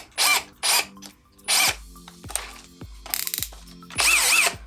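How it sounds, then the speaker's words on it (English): A drill bit is locked into the metal chuck of a Hikoki DV 18DBFL2 cordless combi drill: several short ratcheting whirs in bursts, each followed by clicking, close and clear with pauses between. "So let's lock a drill bit in it."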